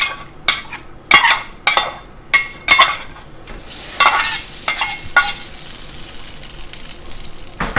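Pad see ew ingredients fry and sizzle in a hot oiled pan on a strong burner, with a steady crackle broken by repeated sharp scrapes and clanks of a utensil stirring, fairly close and loud, no talking.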